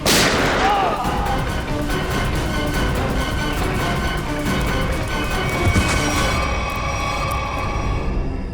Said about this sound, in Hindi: गोली चल जाएगी